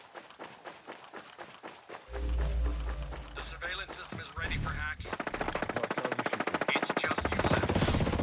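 Rapid automatic gunfire from Ghost Recon Breakpoint, loud bursts and a sustained rattling stream of shots with footstep-like thuds, while a player talks over the action.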